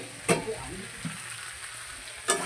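Spice masala for mixed vegetables frying in a pan, a soft steady sizzle with a few light stirring scrapes, fairly quiet and close.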